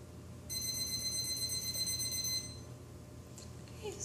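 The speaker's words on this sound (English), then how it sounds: "we're going to use our timer and just start this as we don't have a stopwatch." A phone or kitchen timer alarm used during a dog's physical exam, a bright electronic beeping tone that rings steadily for about two seconds before stopping, over quiet room noise, with no talking.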